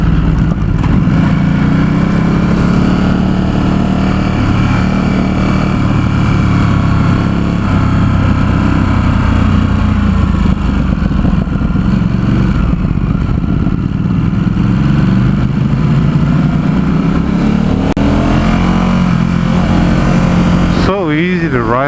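A 2017 Ducati SuperSport S engine heard while riding through city streets and freeway near San Francisco, a loud continuous drone with wind rush, shifting pitch as it revs and settles, with a rider talking over it.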